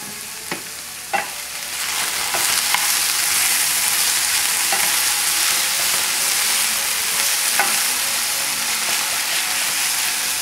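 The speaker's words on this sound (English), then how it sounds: "Now we can keep sauteing it like this and get some color." Corned beef hash sautés in a pan with thyme, a constant close sizzle and crackle broken early by a few sharp scrapes or clacks of a utensil against the pan.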